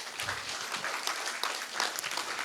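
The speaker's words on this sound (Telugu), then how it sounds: "గట్టిగా చప్పట్లు కొట్టండి" Children at a Sunday School Christmas program clapping together, a lively uneven burst of many small hands sustained throughout, loud and close.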